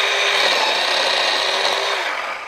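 An electric chainsaw whines steadily as it cuts through a fallen tree, a loud continuous buzzing that winds down at the end.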